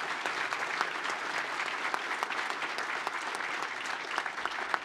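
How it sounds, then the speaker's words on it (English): Steady, sustained applause from a conference audience at a state transportation department event, an even wash of many hands clapping throughout with no speech. "please give our guests a warm round of applause"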